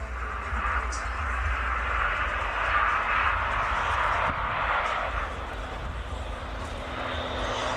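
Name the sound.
Airbus A400M military transport aircraft at an air show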